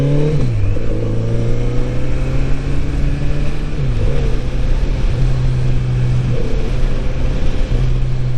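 A 2022 Kawasaki Z900RS motorcycle accelerating on an open road, its engine note climbing through several gears with brief dips at each shift, loud and close with wind noise throughout.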